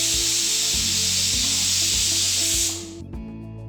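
Pressure cooker letting off steam after boiling potatoes with turmeric: a loud, steady hiss runs for close to three seconds over a faint low rhythmic thumping, then stops abruptly and a few small clicks follow.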